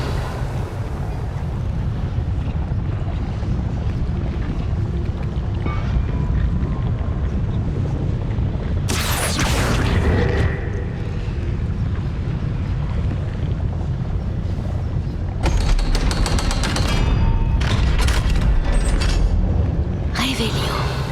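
Blasting-curse explosions from Hogwarts Legacy burst out in several loud, broad cracks, one near the middle and a cluster toward the end, over a steady low rumble with talk in the background.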